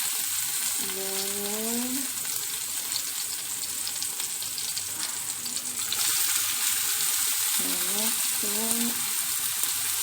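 Garlic, coriander and onion fry for chicken masala with a continuous loud sizzle under repeated stirring scrapes, and a few brief tonal squeaks and quiet words come through.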